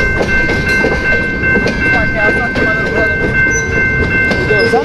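BNSF and Ferromex freight trains switching cars at Slaton, Texas, give off loud, close rumbling and clanking with a sustained horn tone running through, and voices are heard alongside.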